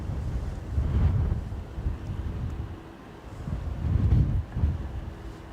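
Strong gusty wind buffets the microphone at Dublin Airport, giving a low rumbling roar that swells and eases in two main surges with no voices.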